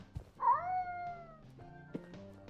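A cat meows once, a clear drawn-out call in the Order 13 video game, over low ambient hum and a few soft thuds.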